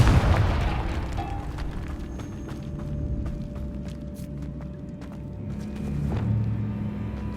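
The Confringo fire spell from the video game Hogwarts Legacy lands with a deep, booming blast, then lingers as a fading rumble with scattered small pops and a softer swell near the end.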